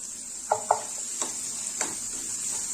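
Ragi upma with fried potato being lightly sautéed in a pan: a soft steady sizzle with a few sharp spatula scrapes and taps spaced apart, close and moderately quiet, no voices.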